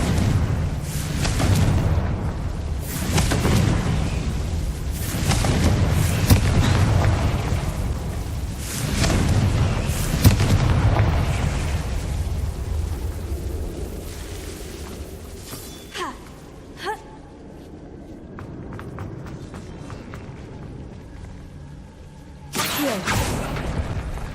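Confringo fire spell explosions in the Hogwarts Legacy video game, a run of loud booming blasts with crackling debris in the first half, fading to quieter hits and a final burst near the end.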